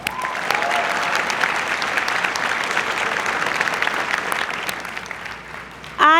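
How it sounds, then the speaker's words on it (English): Sustained applause from an audience at a university student academic excellence awards ceremony, a thick, even wash of many hands clapping, with a brief voice breaking in at the very end. "can you also clap it up for our special events and MCTV who do such a good job today?"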